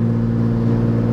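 A Nissan 240SX S13 with an RB20 engine idling with a spun bearing, a loud, dense mechanical drone with steady low pulsing throughout the brief moment.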